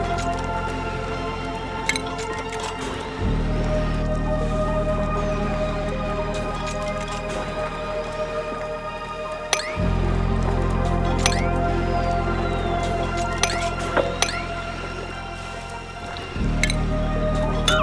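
Steady water flowing through pipes in the colony game Oxygen Not Included, a continuous low rushing hum that swells and drops in long stretches, with occasional small clicks and drips on top.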